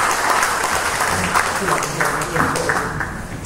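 Audience applause at a youth organization ceremony in Tasikmalaya, a dense, steady clatter of many hands clapping that holds for several seconds at an even level.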